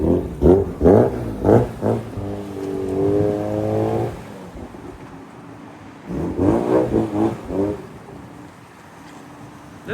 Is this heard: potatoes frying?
no